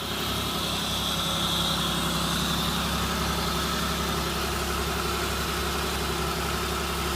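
A 1988 Oldsmobile engine idles steadily after its first start-up of the year, a constant low mechanical rumble with an even hum throughout, no voices.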